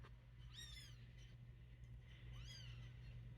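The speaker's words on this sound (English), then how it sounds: "This is my 5-week-old kitten." A five-week-old kitten gives two thin, high-pitched mews about two seconds apart, faint over a steady low electrical hum.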